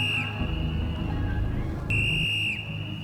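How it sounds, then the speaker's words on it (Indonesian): A high, steady electronic beep signals SOS in Morse code out in a forest. One tone cuts off early and a longer one sounds later, both over a low, rumbling background. "Itu suara Sandi Morse SOS."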